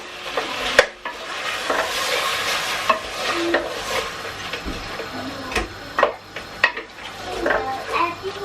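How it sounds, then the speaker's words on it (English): Chicken and mushroom pie filling stirred in a pan, a spoon scraping and clinking against the metal over a steady sizzle, with a few sharper knocks along the way. "Right, give it a little mix."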